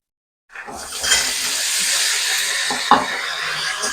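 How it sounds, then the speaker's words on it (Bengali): Green peas hit hot oil with potatoes in a wok, bursting into a loud sustained sizzle and hiss after a moment of silence, with a brief clatter partway through. "মটরশুঁটিটা দিয়ে আমি একটু ভেজে নেব।"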